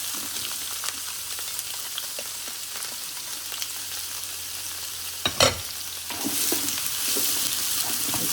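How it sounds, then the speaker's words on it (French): Onion dropped into a slow cooker pot with bacon lardons, thyme and rosemary, a steady soft sizzle with a brief louder clatter and a stronger crackle burst toward the end, no talk. "Je vais mettre l'oignon."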